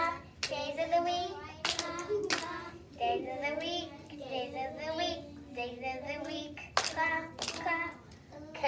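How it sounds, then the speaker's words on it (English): Hands clap along to a days-of-the-week song during a children's circle time, a few sharp double claps between stretches of sung and spoken voices, adult and child. "days of the week, clap, clap."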